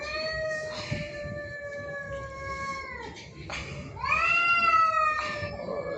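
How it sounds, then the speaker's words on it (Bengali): Cats yowl at night in long drawn-out, wailing meows, two or three extended calls close by and loud, with some quiet background noise. "আরে ম্যাও ম্যাও করে যাচ্ছে"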